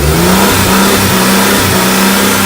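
Car engine held at a steady loud rev with a constant droning tone, close and continuous, no voices over it.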